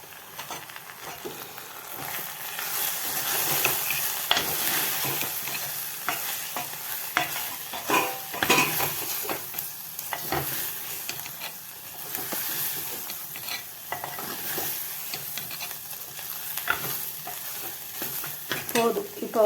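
Brinjal gravy masala with spice powder crackles and hisses as it is stir-fried in a pan, with continuous close scraping and stirring throughout and no talk.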